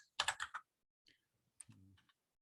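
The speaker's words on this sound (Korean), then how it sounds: "타이핑을 잘못 쳤네요" A short burst of rapid keyboard typing, several quick clicks close together, followed by a couple of isolated keystrokes and a brief soft hum.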